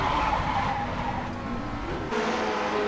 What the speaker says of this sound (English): Great job of keeping the car off the wall by Rob